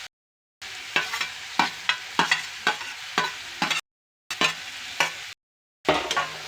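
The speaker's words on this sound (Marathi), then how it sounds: "हलवून घेऊया." Tomato, garlic and chopped chilli being stirred in a frying pan: a rhythmic series of close scraping strokes over a soft sizzle, broken by a few short silent gaps.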